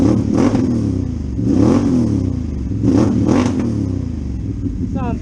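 A project car's engine, a new build, revs loud and close in repeated surges, rising and falling in several bursts over a steady idle.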